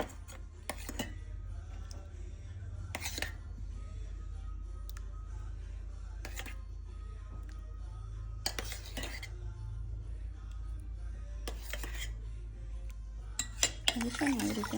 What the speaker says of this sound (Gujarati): હવે છે ને આવી રીતે હલાવી દેવાનું.